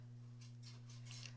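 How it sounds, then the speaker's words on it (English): Scissors snip embroidery threads off a machine-embroidered block in several soft, quick cuts, each faint against a steady background hum. "I'm gonna snip those first two off that are done"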